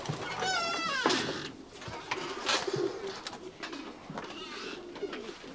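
Racing pigeons coo in a loft, several soft rolling calls overlapping at close range, with a rustle of wings and birds shuffling around them, no talk over it.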